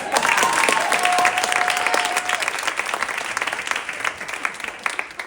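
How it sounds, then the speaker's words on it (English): A theatre audience at a new works series event applauds warmly, a dense burst of clapping that grows sparser with individual claps toward the end, a voice faintly over it. "Yeah, let's clap."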